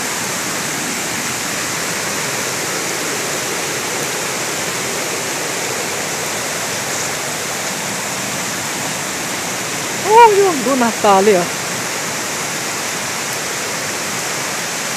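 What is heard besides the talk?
waterfall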